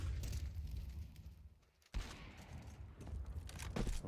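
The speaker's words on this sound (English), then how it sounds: "Zaiwu sending a shot through towards Simple." Gunfire from a Counter-Strike match at the IEM Atlanta esports event, a dense burst of shots with a brief dip in the middle before firing resumes, loud and close, with no talk over it.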